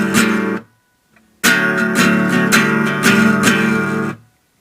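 Electric guitar playing a chorus pattern with the bottom two strings left open, a short strum followed by a pause and then a sustained run of rhythmic strums, close and loud.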